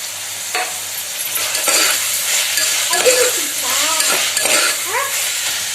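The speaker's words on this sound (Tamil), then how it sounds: "வெங்காயம் வதங்கினதும் தக்காளி சேர்த்துக்கலாம்." Onions and tomatoes sauté in a pan for chicken biryani, a loud steady sizzle broken by scraping spatula strokes, with a few squeaky metallic scrapes, close and continuous with no talk.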